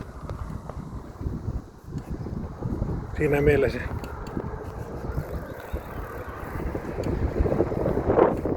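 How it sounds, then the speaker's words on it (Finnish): Strong wind buffets the microphone of a rider cycling outdoors, a continuous rough low roar. Someone speaks briefly over it. "Kova tuuli, en tiedä kuuluuko mitään."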